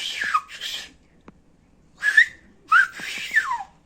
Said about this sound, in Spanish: Ahora inténtelo silbar.